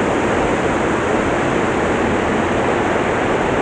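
Waterfall at Curug Putri Palutungan, a dense, steady rushing roar of falling water from about fifty metres away, loud and unbroken, with a slight windy buffet on the microphone.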